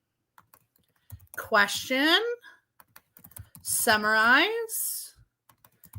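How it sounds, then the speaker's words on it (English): Soft, scattered keystroke clicks from typing on a computer keyboard sit beneath a person speaking a couple of short phrases. "I'm just simply typing in the boxes."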